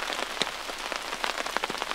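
Steady rain patters on a surface, with scattered individual drops tapping irregularly throughout.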